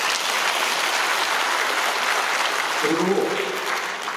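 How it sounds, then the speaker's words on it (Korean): Enthusiastic applause from an audience at a citizens' forum on a coal power plant, dense continuous clapping throughout, with a brief spoken word partway through. "박수 한번 주십시오"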